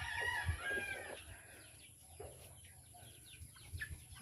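Chickens and chicks cluck faintly outdoors, with scattered short calls and a few thin, high peeps at low volume.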